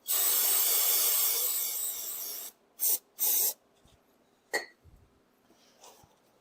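Lubricant sprayed onto the axle of a Polaris Sportsman 570 ATV: a loud, steady aerosol hiss of about two and a half seconds, then two short bursts, followed by faint handling noises.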